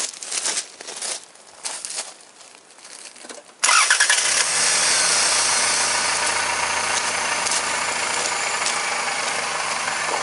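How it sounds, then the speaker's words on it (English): A small motor used to charge an empty 12V/24V car battery starts up and then runs at a steady, loud, continuous drone, after a few seconds of rustling and handling noise. "And now I continue, and I turn on this motor again, and then we need to wait 20 minutes that this loads."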